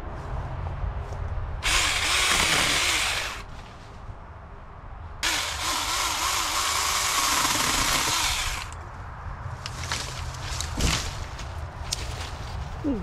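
A Saker Mini 4-inch electric chainsaw prunes branches in two loud, steady bursts of high motor whine, each about two to three seconds long, followed by quieter clicks and brief rustling.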